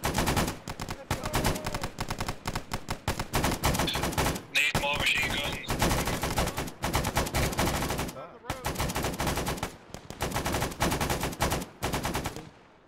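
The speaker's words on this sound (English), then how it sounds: "Reload. Oh, we're getting shot at." Dense, sustained gunfire from a video game battle in a downtown setting: rapid machine-gun bursts and single shots crackle almost without pause, loud and close, with a few short gaps and talk from players over the top.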